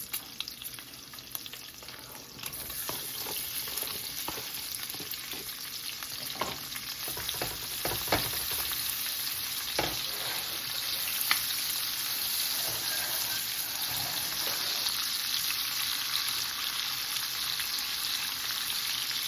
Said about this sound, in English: I'm going to let the bacon cook with the onions for a little while